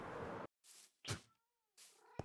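A cat in a Hogwarts video game meows several times, short separate calls with quiet gaps between them, heard up close and alone.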